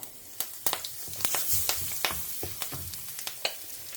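Dal frying in hot oil in a pan, a busy sizzle broken by sharp irregular crackles and pops, close up with no talk.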